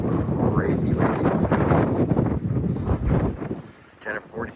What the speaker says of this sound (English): Because it's crazy windy.